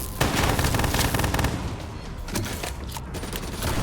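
Dense, continuous gunfire from the Call of Duty: Black Ops 3 game, with overlapping rapid automatic bursts and sharp shots forming a loud, sustained fusillade through the whole stretch, with no clear speech.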